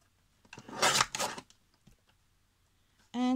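A paper guillotine slices half-inch strips for an Easter craft, giving two close, loud rasping cuts in quick succession. A short tonal sound enters at the very end.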